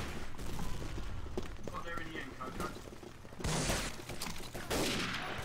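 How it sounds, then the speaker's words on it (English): Gunfire from the Day of Defeat multiplayer shooter game, with rapid bursts and single shots mixed with game noise, fairly loud and near, and a spell of louder fire in the second half; a player talks over it. "Who's shooting me?"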